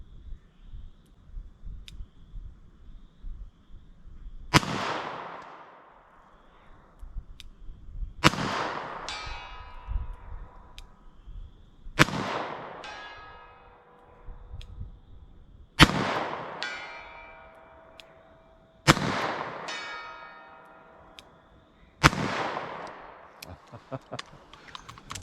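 Six widely spaced handgun shots fired at handgun trainer targets outdoors, each a sharp loud crack with a ringing tail, separated by quiet pauses of several seconds.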